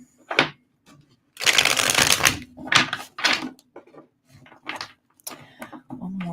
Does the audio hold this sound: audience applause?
no